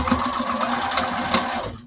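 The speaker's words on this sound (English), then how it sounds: "I am stitching, however, over my little tab right here." A sewing machine stitches over a small fabric tab on a lining, a fast steady mechanical chatter close by that runs evenly for under two seconds before stopping.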